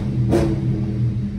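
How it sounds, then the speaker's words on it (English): A car engine revs once in a quick rising burst, then settles back to a deep, steady idle rumble close by. "But we'll give y'all a few revs."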